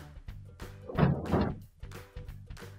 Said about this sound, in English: First thing we're going to do is open up our freezer drawer.